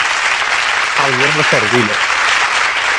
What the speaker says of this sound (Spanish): simplemente esto hay que dar un aplauso y ya está.